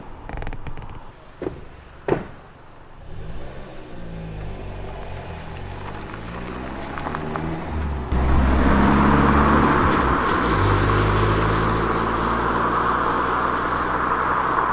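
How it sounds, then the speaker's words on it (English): A car engine rumbles close by, pulling up outside a van at a campsite at night, growing louder and then idling steadily outside, with a few faint knocks and creaks early on. "Car's just pulled up, and it sounds like they're walking around the van."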